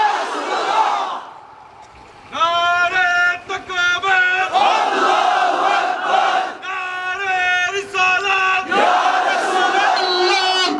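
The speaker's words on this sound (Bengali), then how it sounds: "সাবধান হয়ে যান, স্লোগানটা দেন তো, নারায়ে তাকবীর, নারায়ে রিসালাত" A large crowd at a religious mahfil gathering in Sylhet roars the Nara-e-Takbir slogan in loud, repeated unison bursts, the chant rising after a single voice leads.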